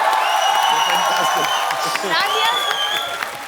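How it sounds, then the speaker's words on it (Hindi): A television comedy show's studio audience applauds and cheers for performer Sugandha, with loud clapping, whoops and a voice talking over the crowd throughout. "सुगंधा के लिए जोरदार तालियां।"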